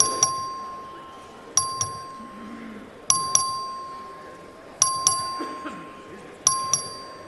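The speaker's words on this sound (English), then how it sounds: "The clerk ring the bell." A legislative House chamber's electronic vote bell dings in repeated pairs of bright, ringing tones at a regular pace during a record vote, with quiet room murmur in the background.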